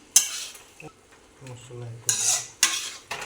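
Spiced food stirred in a pan with a metal spoon: sharp scraping strokes and clinks against the pan at an uneven pace, close and loud, with a low hum between strokes.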